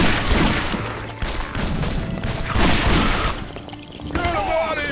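Gunfire from Guns, Gore & Cannoli comes as a steady, loud stream of rapid shots and crashing impacts, with game voices mixed in.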